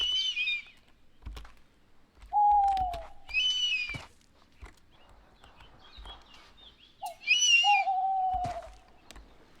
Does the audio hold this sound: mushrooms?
no